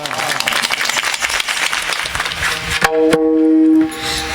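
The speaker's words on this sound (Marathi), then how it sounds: "एकदा सुमंत महाराजांसाठी एकदा जोरदार टाळ्या वाजवा." Audience at a devotional harinam week gathering applauding loudly for Sumant Maharaj, dense rapid clapping that stops abruptly near the end, followed by a sustained sung or harmonium-like tone.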